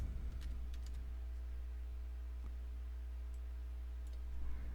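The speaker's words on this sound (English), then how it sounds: "Now I'm going to type in my name." Typing a name on a computer keyboard: a few sparse, quiet key clicks over a steady low electrical hum, with no talking.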